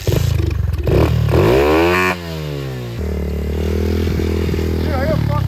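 A pit bike on a snowy, icy mountain trail revs loudly up close, its pitch sweeping up and down as the engine stutters and nearly dies, with rough clattering over rocks.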